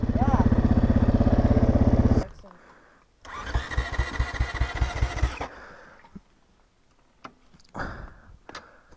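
A Honda CRF250R dirt bike on a trail struggles and bogs. A voice talks at first, then the engine sputters to life with a rapid, uneven putter that fades and dies. Scattered faint knocks follow.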